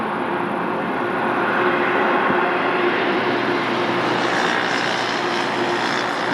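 TAP Air Portugal airliner at Lisbon Airport, its engines a loud, steady roar that holds close throughout without pause.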